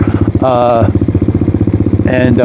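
A motorcycle idles and blips unevenly at a drag raceway, its engine running rough and bucking with a loud, steady pulsing throb and two brief rising revs, while a voice talks over it.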